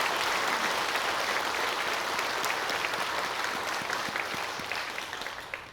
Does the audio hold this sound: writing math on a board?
no